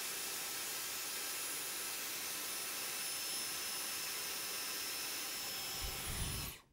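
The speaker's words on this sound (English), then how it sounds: "I'm having to use it on the lowest setting. So I go back and forth, kind of blow drying." A Dyson Airwrap hair styler blows air on its lowest setting, producing a steady, loud broadband whoosh that holds evenly throughout and then cuts off abruptly near the end.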